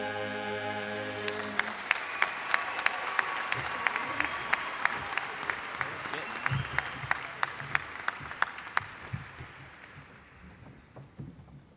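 Audience applause at a high school graduation right after the choir finishes the national anthem, a dense wash of clapping with sharp individual claps that swells and then fades away toward the end.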